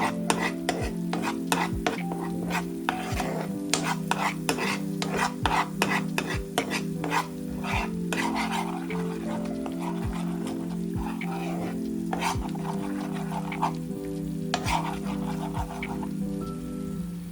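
Turmeric, pepper and coriander powder stirred in a pan for an egg side dish, a constant crackling sizzle with rapid, dense scraping and tapping of the utensil throughout, close and busy.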